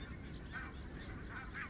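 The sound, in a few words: barnacle geese honking in a field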